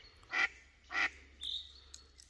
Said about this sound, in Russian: Еще сюда плывут. Еще громче крякает.